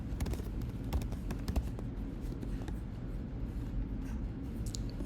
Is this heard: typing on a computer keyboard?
yes